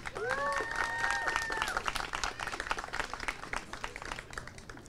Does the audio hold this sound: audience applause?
yes